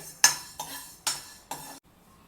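Coriander seeds dry-roasting in a pan for a tomato-brinjal chutney, heard as four quick scraping, rattling stirs of the dry seeds against the metal, close and clear, then a brief quiet.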